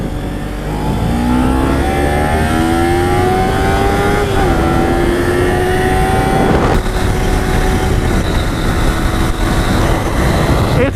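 A motorcycle's loud exhaust revs and accelerates up close at a bike night in Oregon, a steady roaring drone climbing in pitch with a brief gear-change dip, continuous and dominant throughout.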